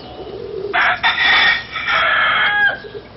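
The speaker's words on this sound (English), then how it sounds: "sitting out here feeding the chickens" Chickens and a rooster being fed outdoors give a run of close clucks and crowing calls in two main bursts, with steady background hiss and no talking.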